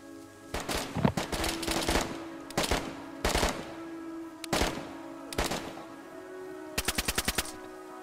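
Gunfire in the DayZ video game: repeated loud bursts of automatic shots and single cracks in several clusters, ending in a rapid even volley.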